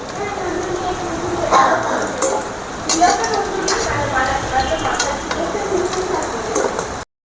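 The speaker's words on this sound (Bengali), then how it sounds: "এভাবে আলুগুলো লাল করে ভেজে নিয়েছি" Potatoes fry in a pan of oil with a steady sizzle and occasional stirring scrapes, close and fairly loud, while a voice talks over the cooking.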